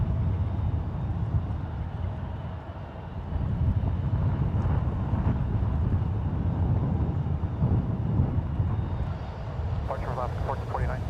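Alaska Airlines Boeing 737 MAX 9 bound for Seattle at San Francisco International Airport, heard as a loud, steady jet engine roar with wind buffeting the microphone, sustained throughout, with a brief higher chirping sound near the end.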